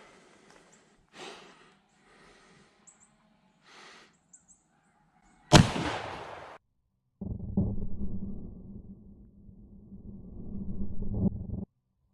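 A Winchester 94 rifle chambered in .32 Special fires one loud, sharp shot outdoors, with a short ringing decay. Soft breathing and handling sounds come before it, and a low steady drone follows.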